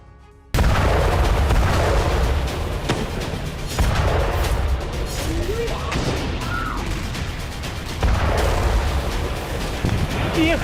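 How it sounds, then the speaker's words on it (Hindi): Heavy explosions from Russian strikes in Ukraine rumble one after another at night, with deep booms and crashing bursts, loud and continuous throughout, with a voice briefly audible among them. "एक के बाद एक धमाके हुए।"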